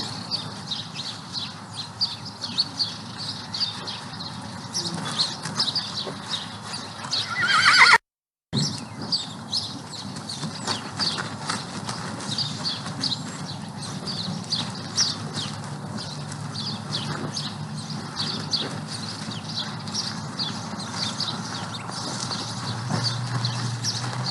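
Horse at a ranch with clip-clop hoof steps and whinnying neighs over a long stretch, birds chirping in the background, fairly close, with a brief dropout partway through.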